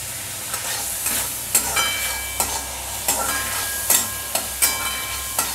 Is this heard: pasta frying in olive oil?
yes